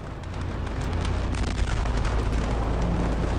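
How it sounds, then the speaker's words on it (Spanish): A loud, sustained roaring blast from the ammonium nitrate explosion at the port of Beirut, a dense rumbling wall of noise with crackling bursts throughout, heard from a distance. "Tras un sonido chispeante, se produjo la primera explosión"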